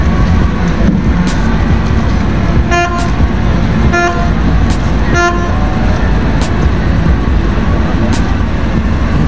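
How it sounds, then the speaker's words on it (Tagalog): Short vehicle horn toots sound several times in a row over loud, constant road and engine noise at the Port of Lucena at night, with a few sharp clicks between them. "Cute naman ang busina."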